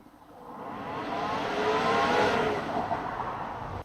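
A Jasic welding machine switches on and its fan or inverter spins up with a rising, steady whirring hum that swells and holds at moderate level, no talk over it.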